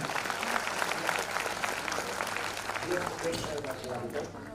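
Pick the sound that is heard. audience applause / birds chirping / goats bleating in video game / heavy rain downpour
audience applause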